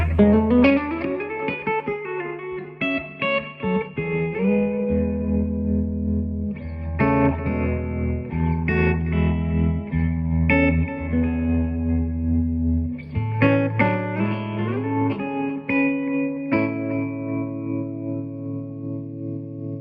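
Electric guitar notes and chords played through tremolo, delay and reverb pedals ring out with pulsing tremolo, echoing delay repeats and a wash of reverb, melodic and clean, with no talking.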